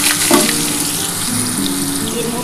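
Cubed yam and potatoes frying together in a pan of hot oil seasoned with cumin seeds and a bay leaf, a loud, steady sizzle up close with a brief clatter at the start.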